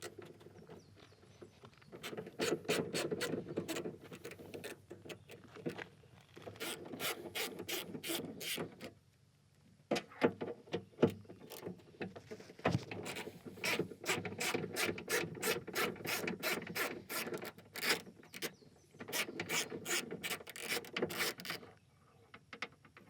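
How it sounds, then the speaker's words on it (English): Ratchet backing out 10mm bolts from a Subaru window gusset, a fast clicking pawl in repeated bursts up close, with short pauses and light scraping of metal and trim between runs. "you have another 10mm bolt in this cavity, as well as this 10mm bolt to be removed"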